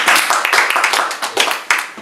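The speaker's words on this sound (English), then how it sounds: "just a brief round of applause." Brief round of applause at an indoor reading session, a few close, loud hand claps in an irregular burst, sounding like a small group rather than a large crowd.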